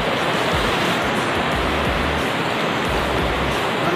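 A jungle waterfall roars in a dense, steady rush of falling water, loud and continuous with no pauses and no voices.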